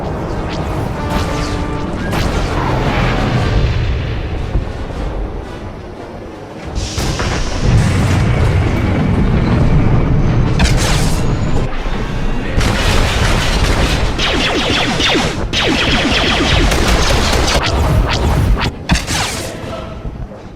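Ground cannon fire and explosions in a Star Wars: The Old Republic battle on Corellia, with loud, dense booms and crashes running nearly continuously, a brief dip around the middle before the barrage swells again.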